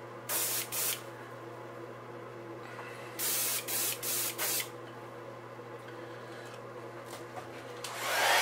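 Airbrush with a 0.35 nozzle spraying pearl silver paint onto a fishing lure during a repaint, heard as several short, faint hissing bursts over a steady low background hum, with no talk.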